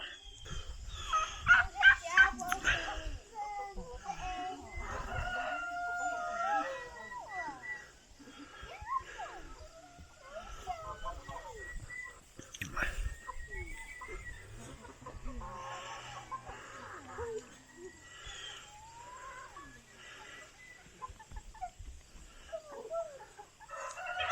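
Chickens cluck and a rooster crows on a homestead in Nova Scotia, Canada. The birds call repeatedly at close to medium range while people talk intermittently throughout.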